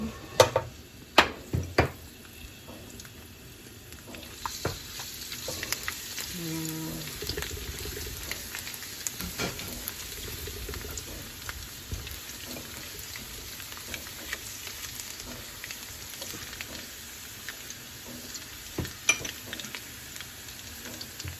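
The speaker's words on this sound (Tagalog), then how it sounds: "Pagka medyo mainit na yung mantika, lagay na natin yung bawang." Garlic sizzles in hot oil in a home kitchen, a soft steady frying crackle with scattered clinks and stirring knocks, and occasional running water from a tap in the background.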